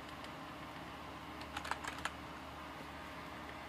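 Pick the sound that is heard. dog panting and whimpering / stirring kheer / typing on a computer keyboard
typing on a computer keyboard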